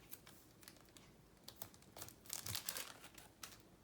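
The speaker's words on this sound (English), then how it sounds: "Get some washi tape here that's on my desk." Washi tape being pulled off a roll and torn at a craft desk, with soft crinkling and a brief ripping burst near the middle, quiet and close, no speech.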